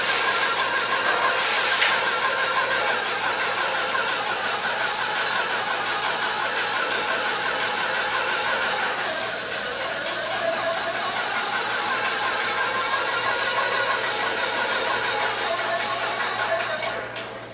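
A hose sprayer pushes paint across a surface inside an office, making a loud, continuous hiss that holds steady for the whole stretch. A few faint clicks sit underneath the spray.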